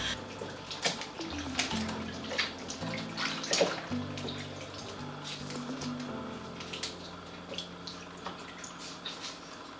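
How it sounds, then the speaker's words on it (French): Spices being washed in water make splashing and dripping sounds, with irregular splashes and trickles rising over a low murmur of background noise. "je vais laver bien laver mes épices"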